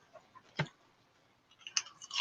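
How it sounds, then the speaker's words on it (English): A single sharp crunch of someone biting into a strangely shaped pickle, loud and close, followed by softer, fainter chewing crunches with no talking. "I will now commence with the crunching."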